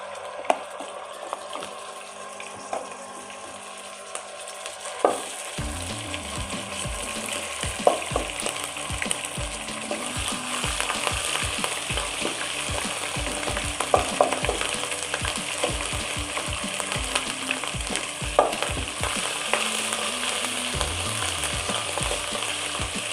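Garlic ginger paste frying in hot oil starts as a quiet hiss and then erupts into a loud, crackling sizzle that keeps popping and spitting for about twenty seconds, with occasional stirring clatter; no speech.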